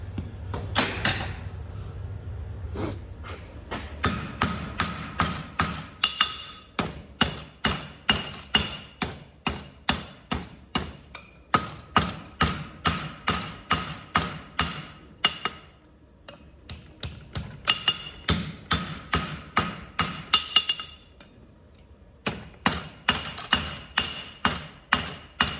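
A hammer forges steel antler tips for a deer head sculpture, ringing metallic blows landing in steady rapid bursts with brief pauses between runs, close and clear with no talking.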